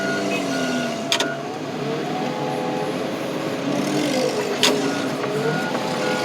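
A truck engine revs hard and climbs through its gears, a steady loud roar with brief shifts, heard near and alone with no talk.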